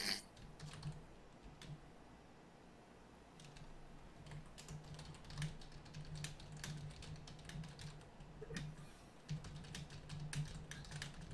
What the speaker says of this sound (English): I was actually typing in the wrong one, so I had to finish typing